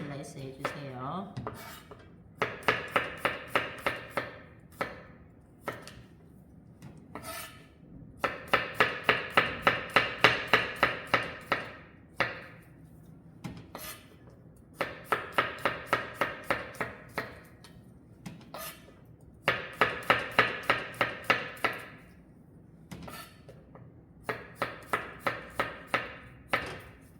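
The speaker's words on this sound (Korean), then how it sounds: "이렇게 마늘을 슬라이스를 해주시고요" A knife slices garlic cloves on a cutting board, fast rhythmic bursts of sharp taps in repeated runs separated by short pauses, close and clear.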